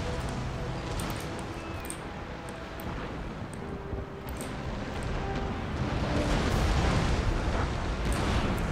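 Ship cannon broadsides in Empire: Total War naval battle, a dense rumbling wash of booming cannon fire and distant crackling shots, continuous and swelling louder toward the end.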